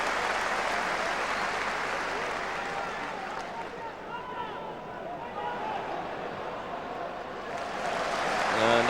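A football crowd at a Rangers versus Kilmarnock match applauds a player returning to the pitch, with broad, sustained clapping and cheering filling the stadium at steady volume, swelling slightly toward the end.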